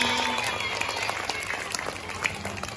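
Audience applause at an award or congratulations event, a steady wash of many hands clapping at moderate distance with scattered sharper claps, voices and crowd noise mixed in throughout.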